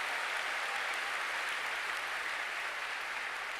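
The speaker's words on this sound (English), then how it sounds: "Let's give a big round of applause again to our talented AeroVision team for their creativity." Steady applause from an audience at a school district back-to-school kickoff event, dense and continuous clapping filling the hall with no voices over it.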